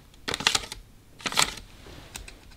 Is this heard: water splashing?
no